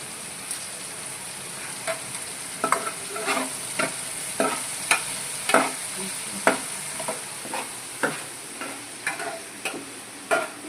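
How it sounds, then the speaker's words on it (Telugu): Cumin seeds sizzling in a hot pan, a soft crackling hiss under regular, close scrapes and taps of a spoon stirring against the metal, with no voices. "ఇదిగో జీరా వేసాను"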